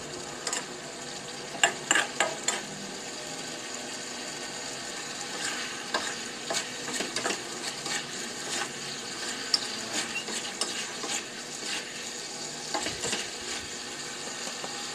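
Beef rendang made with an instant spice paste is stirred in a pan as its liquid cooks off and the spices thicken, giving a steady soft sizzle broken by irregular scraping and clinks of the utensil.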